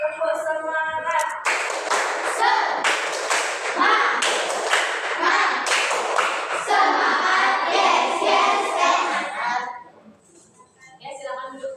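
A school class performs the rhythmic 'tepuk semangat' spirit clap, led by the class leader during a lesson. Clustered, patterned claps and thumps ring out for about ten seconds alongside children's voices, then fade into a quiet room.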